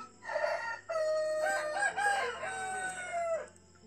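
A rooster crows close by, one long cock-a-doodle-doo rising and falling over about three seconds, quite clear with no talking.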